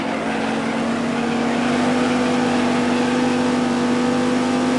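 Dodge Viper engine in the racing video game Viper Racing, holding a steady loud drone with a strong constant tone, shifting up toward fourth gear with no clear break in pitch.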